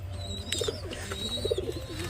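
Soft, low coos from Lakka (fantail) pigeons come twice in short bursts, close by, over faint background noise with a thin chirp in the distance.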